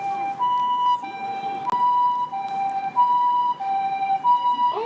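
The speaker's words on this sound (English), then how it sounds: "There's an ambulance coming" Ambulance siren on a cold Tokyo street at night, a loud, close two-tone wail cycling steadily as the vehicle passes, with street noise beneath.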